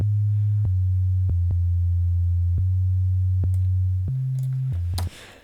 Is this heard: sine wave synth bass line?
yes